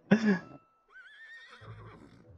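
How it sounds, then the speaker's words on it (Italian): A horse in Kingdom Hearts 3 gives one sharp, loud whinny that trails into a quavering, fading neigh, followed by faint low rumbling. "Oh sì, il cavallo."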